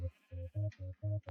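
Sheep in the Minecraft video game bleat several times in a steady rhythm, five short nasal calls close and clear with brief gaps and no talk.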